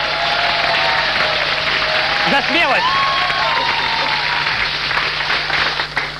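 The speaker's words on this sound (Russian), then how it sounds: "Ваши аплодисменты" Dense, loud applause from a TV studio audience fills a game show set, steady throughout, with a voice speaking briefly over it.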